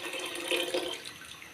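About one litre of water pours into a pressure cooker holding washed lentils, a brief soft splashing stream heard close and alone.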